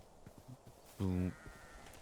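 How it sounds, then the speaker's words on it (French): A sheep in the Minecraft video game gives one short, clear bleat over quiet background game sounds, with faint clicks before and after. "Ok, c'est juste un mouton"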